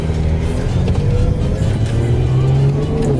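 A Mustang launching hard on pump gas, its engine roaring loud and steady close by with a deep drone throughout.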